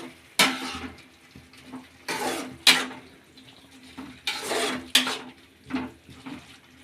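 Water is poured into a pan of cauliflower being cooked for a palya, coming in several short splashing bursts separated by brief pauses, close and fairly loud, with no talking.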